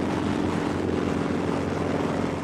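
A Soviet-designed aircraft flying a two-ship display at an airshow, a loud steady engine drone held throughout without talk.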